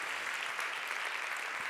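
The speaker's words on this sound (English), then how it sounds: "If we could do just one more round of applause for our sponsors." Audience applause at a 2019 Women in Analytics conference keynote, honoring the sponsors: a dense, steady wash of many hands clapping, unbroken from start to finish.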